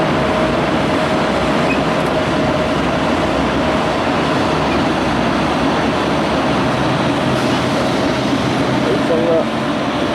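A Russian metro train rolls on with a steady, loud rumble and rattle that fills the whole stretch without a break, with faint voices buried underneath.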